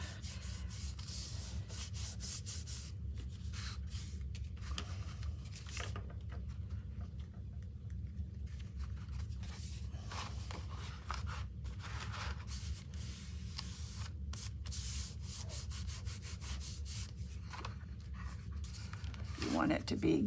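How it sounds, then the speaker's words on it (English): Paper is rubbed firmly against a cover by hand, giving a continuous soft scraping and brushing sound that stays even and close throughout, with a few brief louder strokes. "push that down on it. And rub it till it's dry"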